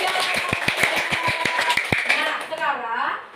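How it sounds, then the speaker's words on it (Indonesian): A classroom of children claps together in a quick, loosely synchronized rhythm of about a dozen sharp beats, close up, with children's voices chattering over and around the claps. "Kita berikan tepuk tangan juga."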